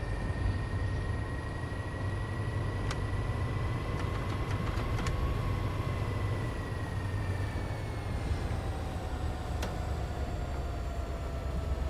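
A commuter train in the Train Sim World 2 game, a Boston MBTA Sprinter on the Stoughton line, runs steadily with a continuous low rumble and sustained whining tones, a few sharp clicks, and no talk.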